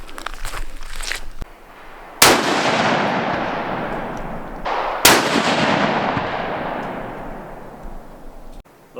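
A Savage 12FV bolt-action rifle in 6.5 Creedmoor, set up for 1000-yard shooting, fires two loud, sharp shots a few seconds apart. Each blast is followed by a long rolling echo that fades slowly outdoors.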